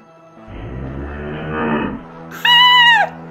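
A cow moos in a cave in the Minecraft video game, one loud, drawn-out bellow that rises suddenly and stands out after a stretch of low rumbling ambience.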